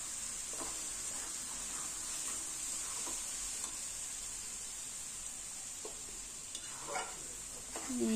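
Potatoes fry in a pan with a steady, faint sizzle, broken now and then by soft scraping strokes of a stirring utensil, with no voices.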